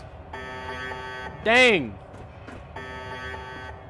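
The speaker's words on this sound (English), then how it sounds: "All right, thanks, alarms. You did your job. I have been alarmed." Electronic alarm buzzer in the Fallout 4 video game sounds in two long steady tonal blasts, with someone talking briefly between them as a rising whooping tone cuts in.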